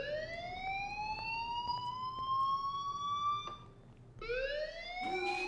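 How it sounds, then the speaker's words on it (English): A fire alarm in the video game Life Is Strange wails in rising tones, one long sweep cut off and then restarting, steady and moderately loud over a low background hum. "So we've got the fire alarm going on."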